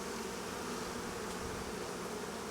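Honeybees swarm over a beehive frame holding stored honey and capped and uncapped brood, giving a steady, dense, close buzzing drone that fills the whole stretch without pause.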